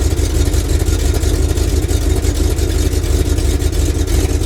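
A 1974 Dodge W100 pickup engine with an electronic distributor runs at a steady, loud, rumbling idle up close, its pulses throbbing evenly without any talk.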